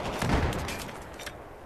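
Gunfire in a Battlefield 4 match on Operation Metro, a short muffled burst of shots with a heavy low thump near the start, followed by fainter scattered cracks.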